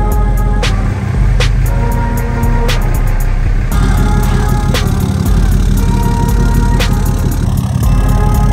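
Tuned and deleted truck engine with 69,000 miles on its first test drive, a loud, steady, low rumble from inside the cab with periodic sharp clicks, no talk.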